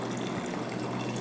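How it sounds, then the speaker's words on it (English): Distilled water poured into a sand and common salt mixture during a school separation experiment, a steady close liquid pouring and splashing sound lasting the whole moment without talk. "I will add distilled water in the mixture to make a"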